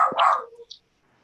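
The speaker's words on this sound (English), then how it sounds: "my dog's barking." A dog barks once or twice in quick succession, loud and close, then stops abruptly and leaves near silence.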